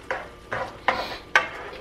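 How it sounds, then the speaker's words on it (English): Four evenly spaced scraping strokes of a spoon stirring a dish around a pan, each a short brushing swish with a soft sizzle between, close and fairly clear with no voices. "Stir it up."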